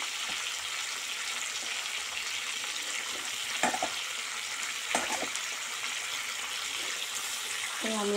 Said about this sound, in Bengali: যতটা দরকার আমি চিকেন নিয়ে নিচ্ছি, এটাকে ভেজে নিচ্ছি।